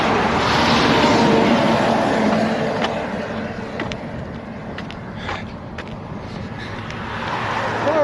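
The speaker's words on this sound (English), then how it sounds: "when these cars run over the rumble strip, it sounds like they're farting." Cars passing over a roadside rumble strip, heard from close by while walking along the road: a loud, continuous low roar and drone that swells and fades with each vehicle, with no talking.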